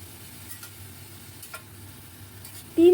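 A spoon stirs a prawn curry with pumpkin leaves and salt in a pan, giving a few soft, sparse scrapes over a low steady background hum.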